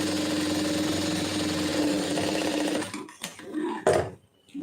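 Sewing machine stitching a lined blouse, running steadily for about three seconds before stopping, followed by a few clicks and fabric handling sounds.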